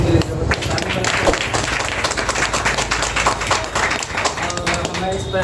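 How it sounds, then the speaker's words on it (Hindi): An audience at a talk on DXN Ganoderma breaks into applause for Doctor Datulim Singh, with dense, sustained clapping from many hands that mixes with a speaker's voice throughout. "डॉक्टर दातुलीम सिंह जी के लिए जबरदस्त ताली बजाइए"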